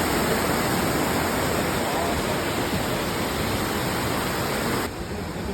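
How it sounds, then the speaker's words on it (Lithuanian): A waterfall in India sends out a dense, steady roar of rushing water that stays constant throughout, close and fairly loud, with no one talking. "Nu, einam žiūrėti tą krioklį."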